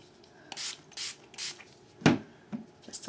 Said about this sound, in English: You can go right into spraying your watercolors